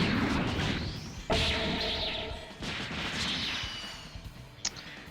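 Dragon Fist attack in Dragonball Xenoverse 2, a loud series of heavy impacts and blasts with rising whooshing energy tones, a big crash at the start of the second second, then tapering hits.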